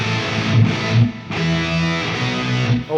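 An electric guitar plays through an octave and distortion preset on a Zoom 505 effects processor, loud sustained fuzzy chords with a thick low octave layer, changing in a few strummed phrases.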